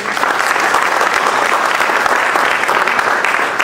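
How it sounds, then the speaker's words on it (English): An audience gives a round of applause at a 2015 women's event after a speech, dense clapping holding steady and loud throughout with no pause. "Can we have another round of applause"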